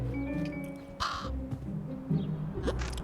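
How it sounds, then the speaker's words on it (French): Crows caw a few times in the Little Kitty Big City video game, a loud harsh call standing out over soft game ambience and music. "Et là, les corbeaux."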